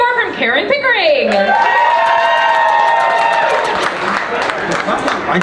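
A crowd at a one-liner comedy competition erupts with loud whooping cheers and wails over continuous clapping, the shouts swelling early and the applause carrying on to the end.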